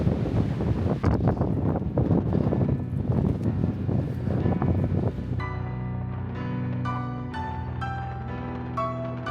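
Strong wind on the mountain trail up Humphreys Peak in Arizona buffets the microphone in loud, rough gusts for several seconds, then eases as fainter tonal sounds take over.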